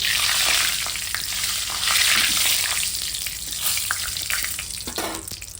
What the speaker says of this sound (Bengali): আলুগুলো ছাড়বো দেখো